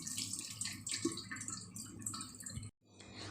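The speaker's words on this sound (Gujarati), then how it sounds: "એટલે ઉપરથી આપણે ઠંડુ પાણી રેડવાનું" Cold water poured over boiled hakka noodles, a close, splashing tap-like stream with uneven gurgles and drips that cuts off abruptly near the end, leaving faint room noise.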